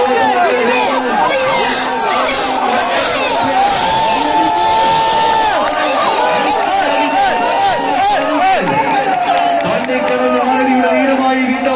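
Crowd of spectators at a large tug of war contest in Jeddah, Saudi Arabia, cheering, whooping and shouting loudly and continuously, with a voice talking over the din.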